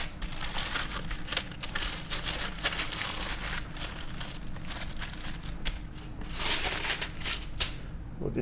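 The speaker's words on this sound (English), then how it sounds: "This is just wax paper here." Wax paper crinkles and rustles as it is handled and folded for wrapping salmon fillets, with irregular crackling bursts and soft background noise.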